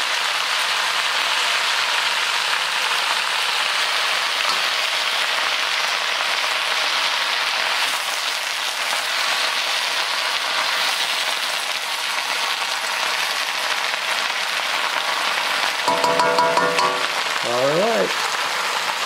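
Mushrooms fry and brown in a pan, a steady loud sizzle that runs without pause, with a brief clatter of utensils near the end.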